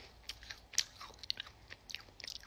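Close, crisp crunching bites into a fresh strawberry, irregular soft mouth noises and bursts of chewing spread across a couple of seconds, no talking.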